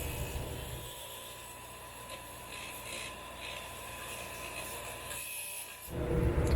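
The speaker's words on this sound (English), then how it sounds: "Let's go take it over to the wire wheel and clean that up." Wire wheel scrubbing rust off a screw from a Galaga cocktail arcade cabinet, a steady close abrasive rasp and whir that continues throughout and swells louder near the end.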